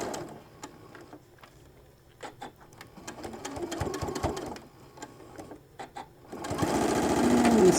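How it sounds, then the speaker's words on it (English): A sewing machine stitches across a fabric shoulder bag in short rapid bursts with pauses and clicks, then runs in a longer continuous whir at the end. "take your clip out and just stitch across"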